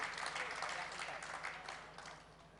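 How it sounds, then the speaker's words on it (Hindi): An audience at a Jain religious discourse claps in dense, steady applause that gradually fades over a few seconds. "हम तो जिनवाणी सुना तब भी लोग ताली बजाते,"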